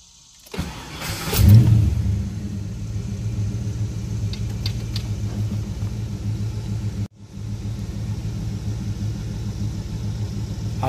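A car engine, apparently with an aftermarket exhaust, cranks and fires at once, surges loudly in a brief rev, then settles into a steady close rumbling idle, cut off for a moment near the end.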